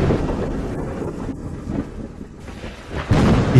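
A low, rumbling roll of thunder mixed with wind-like noise swells and fades for a few seconds, then grows louder near the end, heard alone without talk.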